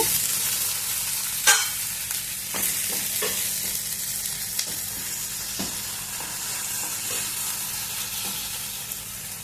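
Carrot pieces sauté in a pan for chutney, giving a steady hiss of frying with a few sharp stirring clicks and scrapes spread across the clip, close by and with no talk.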